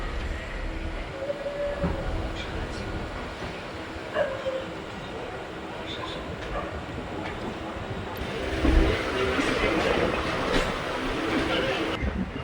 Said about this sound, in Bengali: ট্রেন এখন এসে পৌঁছালো বারাকপুরে